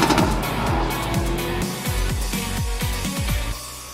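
A 2018 Hyundai i30 N turbocharged hatchback accelerates hard in N mode, its engine note climbing and dropping through quick repeated gear shifts, loud and close with no talk.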